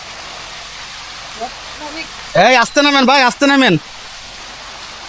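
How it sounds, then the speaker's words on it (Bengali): Water from Chingri waterfall in Thanchi, Bandarban, makes a steady, broad rushing hiss throughout, while a voice calls out loudly over it partway through. "দেখতে পাচ্ছেন এই যে ঝর্ণার পানির সাউন্ড শুনতে পাচ্ছেন"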